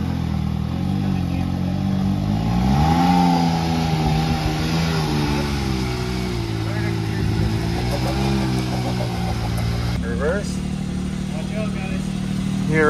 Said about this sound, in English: he's going to have to just drive it around and go through all the gears so it relearns it